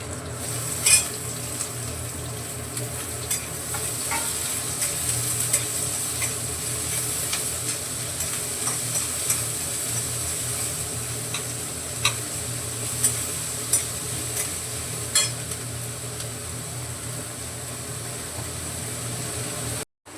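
Onions and other ingredients being sautéed in a pan, a steady continuous sizzle with light scattered stirring clicks, close and fairly loud throughout, no voices.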